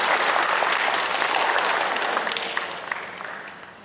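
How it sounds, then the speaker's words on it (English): Conference audience clapping for a professor after an orthotics and prosthetics talk, a dense, steady round of applause that fades out gradually toward the end. "we have a big applause for the Prof. Gorsel for giving a very good talk to us"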